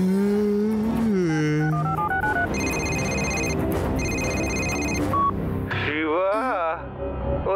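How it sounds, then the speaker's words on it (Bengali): Telephone tones beep in a cartoon, a rising series of short electronic notes followed by a held ringing tone, over a busy music score with a character's voice. "শিবাকে একটা ফোন করা দরকার।"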